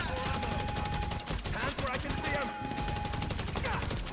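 Dense rapid gunfire from a GTA Online shootout, with continuous bursts of shots crackling loudly throughout under busy game noise, no pauses between volleys.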